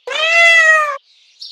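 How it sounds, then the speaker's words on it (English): A single cartoonish cat meow from a kids' educational animal-finding game, loud and clear, lasting about a second and followed by near silence with a faint high tone. "cat"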